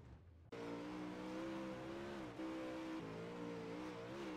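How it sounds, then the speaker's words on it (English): Super late model race car engine roaring on the Knoxville dirt track, a loud sustained drone that cuts in abruptly, dips briefly with the throttle, then holds steady and near. "Take a look at your MB Customs car number 90 car of Jeff Fitzpatrick, really off the throttle right through the slick."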